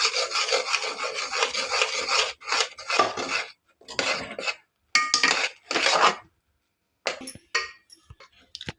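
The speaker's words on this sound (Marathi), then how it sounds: "आपण हे पीठ आता यात मिक्स करून घेणार आहोत." Flour is stirred into boiled pineapple juice in a pot, giving rough scraping and rubbing strokes of a spoon against the pot in bursts, loud and close, with short pauses between them and no talking.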